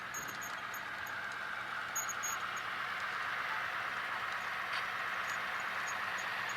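An HO scale model mixed freight train rolls past, its steady whirring motor and rail hum holding at one level with small clicks from the track.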